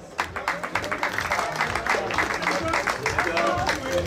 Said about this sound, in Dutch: We gaan een overdovend applaus geven